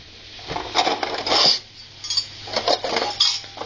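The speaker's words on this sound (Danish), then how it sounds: "Bestik." Cutlery clinks and rattles as a table is set, with bright metallic chinks of forks and knives against dishes in several close bursts separated by short pauses.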